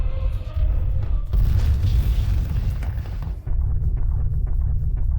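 A deep, heavy cannon boom from the anime Attack on Titan rumbles out, followed by sustained low roaring and crashing that lingers for several seconds, loud and close.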